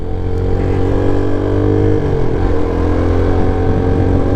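A Peugeot PM-01 125 motorcycle rides on the motorway with a steady, loud engine drone and wind noise. The pitch dips briefly partway through before settling again, with no talking.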